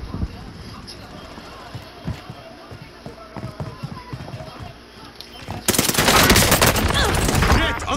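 Gunfire in Call of Duty: Modern Warfare: scattered shots and footsteps, then a loud, dense burst of rapid automatic fire during the final seconds, with voices talking over the action.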